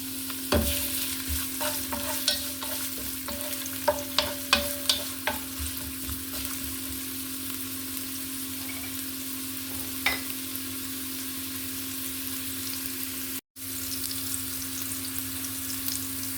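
Ginger fries for ginataang papaya, a faint steady sizzle filling the pan, broken by several sharp clinks of a utensil stirring against it; no one speaks.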